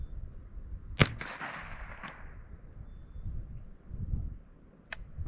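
A Ruger 10/22 rifle firing at a target outdoors: one sharp crack with a short decaying tail, then a quieter second report a few seconds later, with low background noise.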